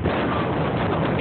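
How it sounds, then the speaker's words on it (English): Wind buffets a microphone outdoors at a playground where children play, making a loud, steady, low rumble that fills the whole moment with no voices. "That wind."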